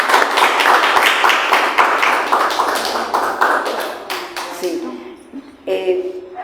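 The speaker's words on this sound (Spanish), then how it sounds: "invitamos a un fuerte aplauso" A small audience at a human rights talk claps to welcome a speaker, distinct close claps that thin out and stop partway through, followed by people beginning to talk.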